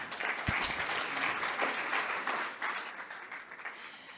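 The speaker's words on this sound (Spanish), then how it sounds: "Un aplauso, por favor." An audience applauds to welcome a speaker at a financial education event. The clapping is dense and steady for several seconds, filling the room at a moderate level, with no voices over it.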